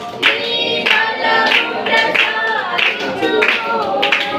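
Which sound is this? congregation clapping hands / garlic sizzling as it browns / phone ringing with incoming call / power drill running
congregation clapping hands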